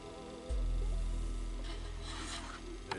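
Metal drill bit being worked and scraped out of an airsoft L96 sniper rifle's hop-up unit, a steady close grinding rasp with a low rumble, ending in a sharp click.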